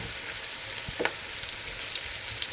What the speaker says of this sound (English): it's just starting to saute off.